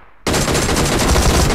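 Sustained burst of automatic gunfire from the mobile battle-royale game PUBG Mobile, loud and rapid after a brief quiet moment, with no talking over it.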